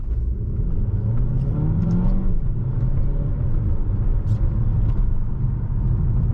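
An Alfa Romeo Tonale in manual mode pulls hard in first gear, its engine rising steadily in pitch as it accelerates, loud and close from inside the cabin with a constant road rumble underneath.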